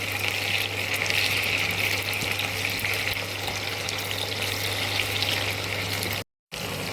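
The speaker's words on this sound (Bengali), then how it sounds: "টমেটোটা ভালো করে একটু ভেজে নেব।" Tomatoes frying in a pan for egg chili, sizzling loudly and steadily up close with a constant low hum underneath, cut off by a brief dropout near the end before the sizzle resumes.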